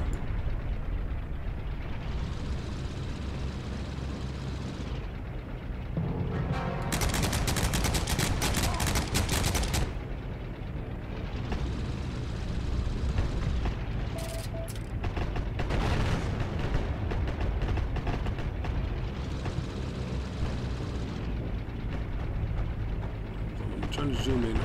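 Tank fire and gunfire in the video game Heroes and Generals: two long, loud stretches of rattling automatic shots over a constant mechanical engine drone, with talk nearby.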